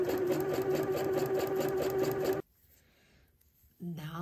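A sewing machine stitches elastic onto a swimsuit in a steady, fast, close-up whir for about two seconds, then stops; after a quiet pause a person starts speaking.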